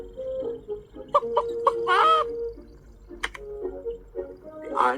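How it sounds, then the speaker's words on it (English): Cartoon Iron Chicken in a Clangers children's game, clucking and flapping in a run of short metallic squawks and bursts, with a louder flutter midway and another near the end. "The Iron Chicken flaps up into the air and lands on Lands top of the pile."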